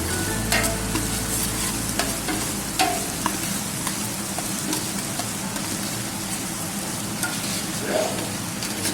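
Cauliflower sabzi with tomatoes being stirred in a pan, dhaba style: a steady, close sizzle of frying with irregular scraping stir strokes throughout, and no speech.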